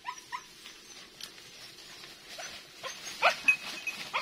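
Male hunting dog whimpers in short, faint high whines, several scattered yelps spread across the moment, in a quiet outdoor setting.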